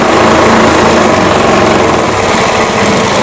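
A sewing machine runs continuously at speed while stitching cotton fabric for a Rajputi suit, giving a loud, steady, high-pitched mechanical whir with no pauses.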